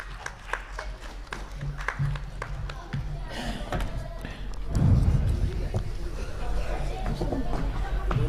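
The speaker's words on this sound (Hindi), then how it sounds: "तालियों से उनका स्वागत करें" Scattered applause from a seated audience welcomes appointees receiving their appointment letters at a formal function, starting as light sparse claps and swelling into fuller clapping, with background chatter throughout.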